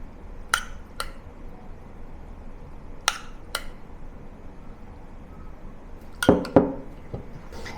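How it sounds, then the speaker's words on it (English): Spoon clinking against a bowl while minced pork sauce is served over plain rice for rou zao fan, a few sharp close taps spaced out, ending in a quick cluster of clinks with no talk. "To serve, spoon generously the minced pork sauce on top of the plain rice."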